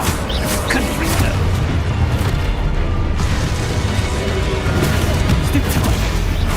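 Fiery Confringo blasting spell from the Hogwarts Legacy video game, a dense continuous barrage of booming, crashing explosions and magic effects filling the whole stretch, loud and close with no pauses.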